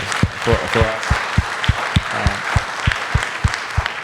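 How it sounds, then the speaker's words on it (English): Audience applause at an evening Q&A event with an Olympian, a steady run of sharp, evenly spaced hand claps that sounds fairly close, with a faint murmur of crowd voices underneath. "So I think he deserves a round of applause for us."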